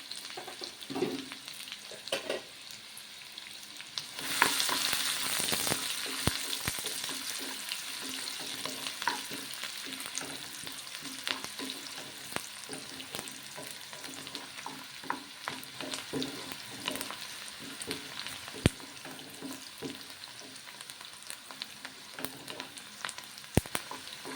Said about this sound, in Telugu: ఉల్లిగడ్డ మరీ ఎర్రగా వేగాల్సిన అవసరం లేదండి మామూలుగా వేగితే సరిపోతుంది మనకు కర్రీకి